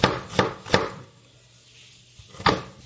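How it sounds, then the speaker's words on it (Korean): Knife chopping two onions on a cutting board in a home kitchen, three quick crisp chops, a pause, then one more close chop. "저는 양파 2개를 썰어볼 거예요."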